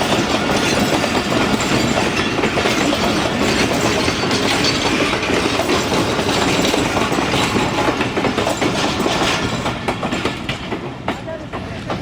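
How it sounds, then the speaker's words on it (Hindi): Tezgam express train braking and slowing down near Chanesar Halt, Karachi, rolls loud and close with steady clickety-clack and grinding, the noise gradually easing toward the end. "तेज़गाम रुक रही है भाई, ऐसा लग रहा है ब्रेक लग गए हैं ट्रेन के"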